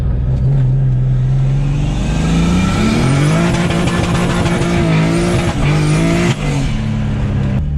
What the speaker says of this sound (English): I'm gonna try and heat up my tires